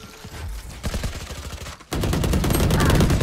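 Rapid bursts of gunfire in a first-person shooter video game, a stuttering volley followed by a louder, continuous barrage of shots that fills the second half.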